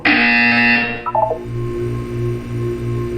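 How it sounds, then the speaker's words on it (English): A loud electronic buzzer in the video game Portal 2 blares, then a quick descending run of beeps, followed by a steady pulsing low tone. "When you hear the buzzer, look down at the floor"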